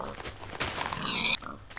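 Pig oinking in the Minecraft video game, a short grunting call in the middle of a busy stretch of game sound, with no talk over it.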